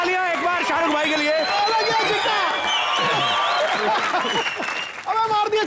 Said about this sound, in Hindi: जोरदार तालियां एक बार शाहरुख भाई के लिए।